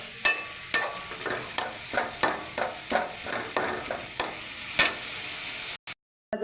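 A green papaya sweet mixture with milk powder stirred in a pan, giving regular scraping strokes roughly twice a second over a soft sizzle, close and clear, before a sudden cut to silence.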